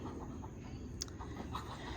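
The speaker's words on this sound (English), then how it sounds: "these chickens riled up in the coop" Chickens stirred up inside a coop give short, faint clucks in quick, uneven bursts over a constant background hum, with no talking.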